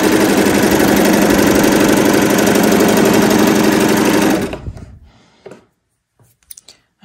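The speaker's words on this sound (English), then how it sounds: "I'm gonna go ahead and just use my serger to sew up the neckband" A serger sews a knit neckband with a loud, steady, rapid mechanical whir close by, then slows and stops, followed by a few faint handling clicks.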